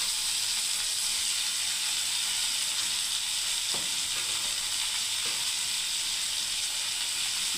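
Tomatoes tipped onto browned onions fry in a pan with a steady, loud sizzle and hiss throughout, broken by a couple of brief stirring scrapes partway through, with no talking.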